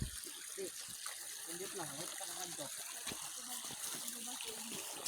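Steady rushing water from a mountain waterfall, a constant broadband gush continuing under people talking throughout.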